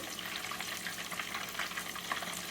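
Pepperjack cheese bombs frying in a pan, a continuous close hiss and crackle of hot oil holding steady throughout, with no talk.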